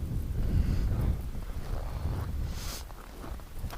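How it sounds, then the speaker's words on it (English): Wind at minus 30 degrees blowing hard into the microphone outdoors, a continuous low rumbling buffet with gusty swells and no other clear sounds. "Oh, the wind."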